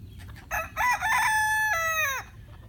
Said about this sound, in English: All these roosters over here.